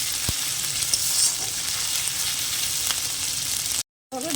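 Food fries in a pan with a constant close, loud sizzle and crackle, a faint clink near the start, before a short drop to silence near the end.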